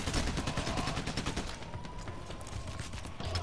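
Rapid gunfire in the video game Payday: The Heist, a fast, continuous volley of shots at moderate volume with no talk over it.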